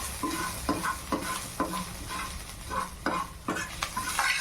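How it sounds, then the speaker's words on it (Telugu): Ginger garlic paste frying in a pan, a steady close sizzle with a spoon scraping and stirring in regular strokes roughly every half second. "అల్లం వెల్లుల్లి పేస్ట్ వేసిన తర్వాత కొంచెం పచ్చి వాసన పోయే వరకు కొంచెం ఫ్రై చేయండి"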